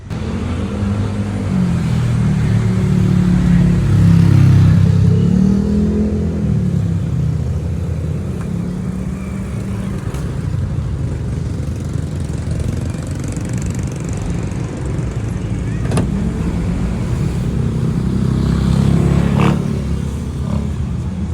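A Toyota Avanza Gen1 with a 3SGE Beams engine on a MegaSquirt 3 ECU runs loudly and steadily, a rough droning idle with gentle swells in volume and faint mechanical clatter throughout.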